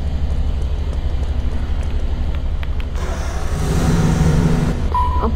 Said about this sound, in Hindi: अब कान फट जाएंगे इतनी आवाज है गाड़ी में